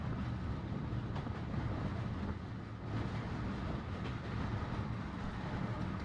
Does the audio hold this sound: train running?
yes